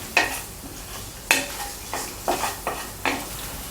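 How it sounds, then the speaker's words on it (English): Ginger and garlic sautéing in a pan while a utensil scrapes and stirs, giving a soft steady sizzle broken by about six sharp metallic stirring scrapes. "Saute the ginger until it turns fragrant."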